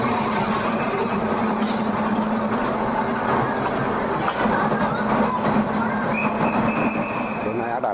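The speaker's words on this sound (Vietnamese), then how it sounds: "Đó, con tàu chạy tới." A train pulls into a railway station in Da Lat, a loud steady rumble of rolling wheels and cars with a brief high squeal, as people talk over it.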